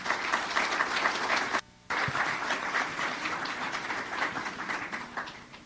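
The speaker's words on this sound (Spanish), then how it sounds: "Un aplauso para él." An audience at a university literature event applauds for the writer Fernando Iwasaki, sustained dense clapping from a roomful of people, briefly cut off by a short gap before resuming and continuing.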